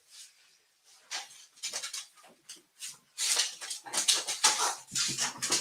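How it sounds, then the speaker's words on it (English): Several Pomeranians yip and whimper in quick, uneven bursts that build to a louder, continuous clamor of high-pitched barking close by. "Now they're going to start barking."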